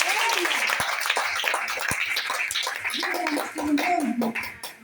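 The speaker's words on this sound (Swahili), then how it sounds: "Yesu makofi." Church congregation applauding for Jesus during a testimony service, a close, brisk patter of many hands clapping with scattered voices mixed in throughout.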